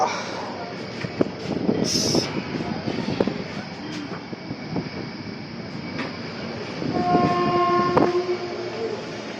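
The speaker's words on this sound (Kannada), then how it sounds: "ಪ್ಲ್ಯಾಟ್ಫಾರ್ಮ್ 5th ಅಲ್ಲಿ ನಮ್ಮದು ಟ್ರೈನ್ ನಿಂತ್ಕೊಂಡಿದೆ" A train rumbles and clatters at platform 5 of a busy Kochi railway station, with a steady mechanical din and a horn-like tone sounding near the end.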